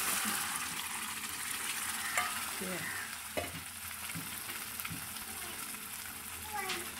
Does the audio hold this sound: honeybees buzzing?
no